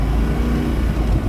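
A 2006 Spyker C8 Spyder on the move, its engine giving a loud, steady low rumble from inside the car for a brief stretch, no talking.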